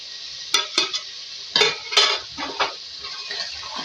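Beef curry with yogurt is being stir-fried in a pot for a village-style beef, turnip and bottle gourd dish. A spoon scrapes the metal in short, uneven bursts over a soft background sizzle.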